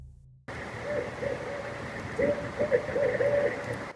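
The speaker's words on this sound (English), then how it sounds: "There's an owl over there. I love owls. I can hear it." A barred owl hoots several times in a wavering series over a steady outdoor hum at a campsite near water, moderately distant, with no talking.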